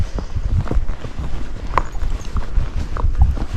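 A Missouri Fox Trotter horse named Simon walks down a hill, hooves thudding in a steady clip-clop rhythm, close and fairly loud, with one brief sharp click partway through.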